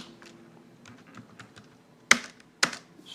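Typing on a computer keyboard: soft, irregular key clicks followed by two loud, sharp key strikes close up, with no talking.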